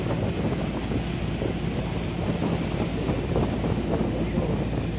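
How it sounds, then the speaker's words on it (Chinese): Sea waves wash and rush around a boat out at sea off Taichung Harbor, a dense, continuous roar mixed with wind buffeting the microphone, loud and steady with no talking. "海浪。"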